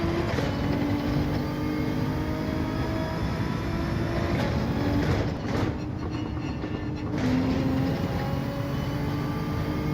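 A racing car in Gran Turismo 7 on PlayStation 5 drives on worn tyres, its engine holding a continuous loud drone with shifting pitch and steady rumbling road noise throughout.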